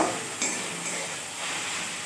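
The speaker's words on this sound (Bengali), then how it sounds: "লঙ্কা দিয়ে, পেঁয়াজ দিয়ে, আদা রসুন দিয়ে ভেজে নিচ্ছি একটু" Onions, chili, ginger and garlic sizzle softly in a pan, with a brief metallic scrape of a utensil near the start over a steady, quiet frying hiss.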